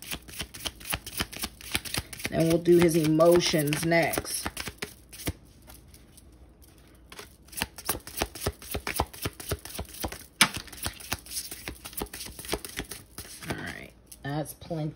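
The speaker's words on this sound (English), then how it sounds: "Last shuffle." Tarot cards being shuffled, a long run of rapid, close riffling and crisp flicks with brief pauses, while a person talks over part of it.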